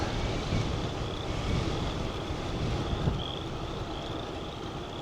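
A faint, high-pitched motor whine from a small model airplane drifts in and out far off, over steady wind rumble outdoors.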